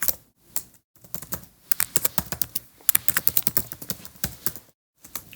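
Rapid, irregular keystrokes on a computer keyboard entering a channel search, bursts of close, crisp clicks with a couple of brief pauses.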